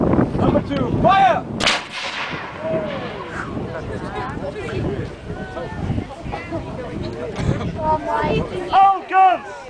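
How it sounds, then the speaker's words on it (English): A 25 pounder artillery gun firing at an outdoor demonstration, a few sharp booms ringing out amid wind noise, with people talking and shouted commands around them. "Gun number two, fire. Number two, fire."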